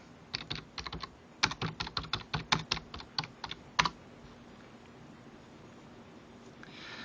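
Someone typing on a computer keyboard nearby, a quick run of sharp, distinct key clicks in uneven bursts for about four seconds, then fading to a quiet background hum.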